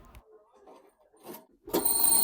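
An alarm clock suddenly bursts into a loud, continuous ringing near the end, after a few moments of soft movement and faint voices.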